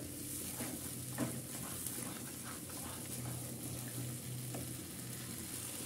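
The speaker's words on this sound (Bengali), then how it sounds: "এখন একটু বেশ কিছুক্ষণ ভেজে নিব" Boiled carrots fry in ghee for carrot halwa, a faint, even sizzle running throughout with soft occasional stirring taps in the background.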